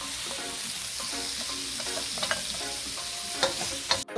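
Shrimp cooking in sauce in a pot on the stove over medium-high heat, a steady close sizzle and bubbling with occasional stirring scrapes and clinks.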